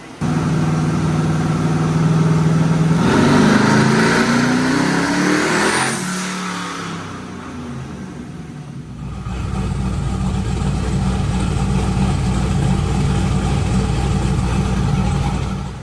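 A Whipple supercharged LS7 air boat engine runs on a dyno in second gear with the converter unlocked, roaring loudly as it revs up in a rising sweep, then dropping back before settling into a heavy sustained drone.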